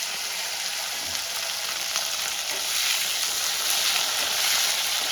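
Slit green chilies and sliced tomatoes hit hot oil, giving a loud, continuous frying hiss that swells a little toward the end, with no talking.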